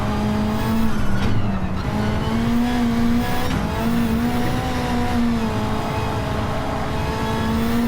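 A racing car engine in Gran Turismo 7 revs steadily at high pitch, its tone rising and dipping slightly as it holds a sustained drone, loud and continuous with faint tire noise and no talking.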